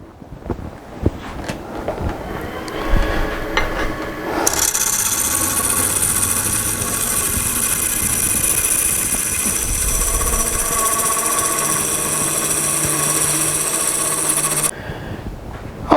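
A woodturning lathe tool cuts a crack out of a wooden bowl, giving a steady, loud rasping hiss with a high whine that holds for about ten seconds after scattered scrapes, then cuts off.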